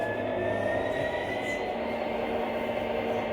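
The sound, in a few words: MTH model train running on track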